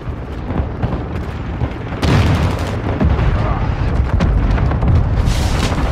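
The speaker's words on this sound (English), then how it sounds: "Hostile mortar strike incoming." Mortar strike explosions in the Call of Duty: Modern Warfare video game, a dense, continuous rumble of booms that grows heavier after a sharp jump partway through, with chaotic battle noise and voices underneath throughout.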